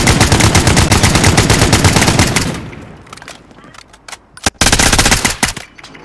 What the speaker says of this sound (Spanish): Me stanno disparando.